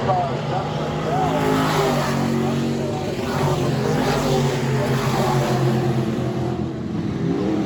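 E-Mod race cars battle on the track at Lakeside Speedway, their engines revving and roaring loudly as they pass, under a track announcer's talk.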